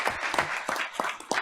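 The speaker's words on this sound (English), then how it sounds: "So I think we should give Linda applause as well." Audience applause at a board of education meeting: a short burst of clapping, with a few distinct claps standing out in an uneven rhythm, moderately close.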